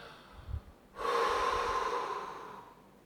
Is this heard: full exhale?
yes